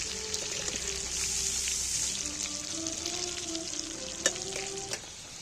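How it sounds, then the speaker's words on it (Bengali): Potatoes frying in oil in a pan for dum-style mutton curry give a steady, close sizzle. Scraping stirring strokes run through it, with a couple of sharper knocks near the end and no talking. "এবার আমি আলুগুলোকে একটু তেলের মধ্যে নেড়ে চেড়ে ভেজে নেবো ভালো করে।"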